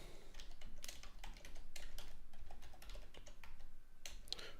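Quiet, close typing on a computer keyboard, a steady run of soft key clicks with occasional louder taps and no talking.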